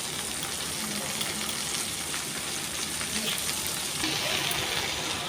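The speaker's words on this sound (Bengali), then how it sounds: "ঢেঁড়স ভাজি" Okra frying in a pan gives a steady, close broadband sizzle with a soft hiss and faint crackles throughout, no talk over it.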